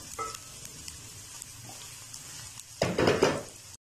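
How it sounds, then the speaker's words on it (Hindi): Finely chopped onion softening in a pan while a noodle dish is cooked. It makes a soft, steady sizzle with light stirring, and a louder burst of frying and scraping arrives near the end. "प्याज को हल्का नरम करेंगे, एक मिनट के लिए जो है पका लेंगे।"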